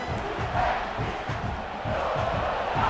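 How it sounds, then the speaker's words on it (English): Football stadium fans roar at full volume in a continuous crowd din, with a rhythmic pulsing undertone of stomping or chanting beneath the noise. "These fans are going absolutely nuts."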